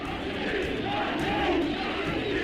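A crowd gathers in Algiers in 1958 in archival footage, an anxious mass of voices forming a steady, dense murmur with raised shouts, moderately loud, in one short continuous stretch.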